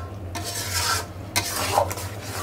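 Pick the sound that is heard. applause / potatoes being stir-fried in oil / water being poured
potatoes being stir-fried in oil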